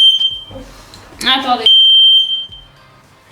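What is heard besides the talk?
smoke alarm set off by burnt sponge cake in oven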